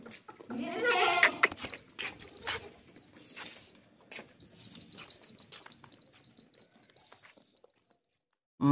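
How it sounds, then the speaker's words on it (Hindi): A fat, healthy goat at a livestock sale bleats loudly up close in a strained, wavering cry early on, followed by quieter rustling, shuffling and scattered animal noises. "ये बकरी चेक करें, बहुत ही ज़बरदस्त और मोटी ताज़ी बकरी है।"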